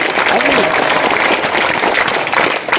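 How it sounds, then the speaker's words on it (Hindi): A village gathering breaks into a loud, sustained wash of clapping to welcome an honoured soldier, with dense applause filling the whole moment and crowd voices mixed underneath. "एक बार जोर से तालियां बजाकर स्वागत करो अगर मंजूर है तो"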